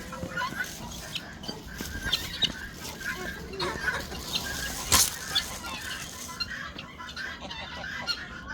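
A noisy flock of Çorum geese honks and cackles while feeding, with some faint voices and rustling mixed in. The calls are frequent and overlapping.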